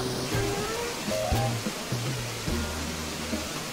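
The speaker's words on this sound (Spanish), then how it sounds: "las cascadas a los lados se ven muy bien" Waterfalls in Animal Crossing: New Horizons produce a steady, close wash of rushing water, loud and continuous, while a voice talks softly over it.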